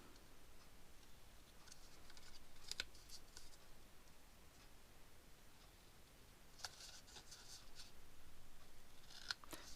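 Scissors snipping through paper while a handmade mini file folder is cut, a few soft, quick clicks and crisp cuts close by, fairly quiet against a faint room background.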